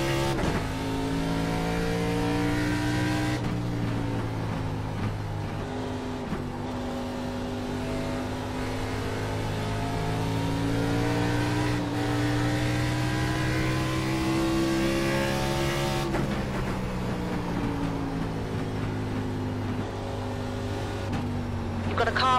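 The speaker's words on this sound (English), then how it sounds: "Got a car on the outside." Race car engine from a racing video game, a steady sustained drone with shifting harmonic pitch as a car runs alongside on the outside, continuous and fairly loud throughout, with a spotter's voice talking over it at times.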